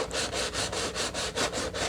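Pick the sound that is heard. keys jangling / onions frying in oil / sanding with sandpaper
sanding with sandpaper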